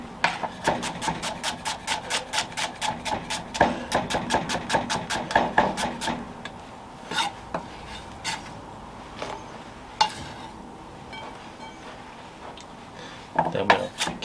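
A knife slices food thin on a cutting board in rapid, even strokes, a quick run of crisp taps that slows into scattered single cuts, close and clear.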